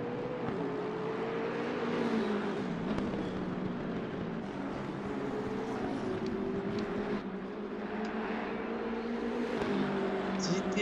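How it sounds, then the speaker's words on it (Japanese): A Nissan GT-R GT3 race car engine drones steadily in Assetto Corsa Competizione at Snetterton, pitch rising and dipping with shifts and throttle, with faint background noise. "GTR のエンジン音もいいですね。"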